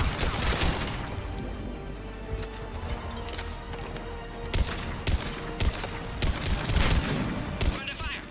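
Gunfire during an attack in the video game Mass Effect 3, bursts of rapid shots and sharp impacts crackling over a dense background of explosions and battle noise, with loud peaks clustered toward the end.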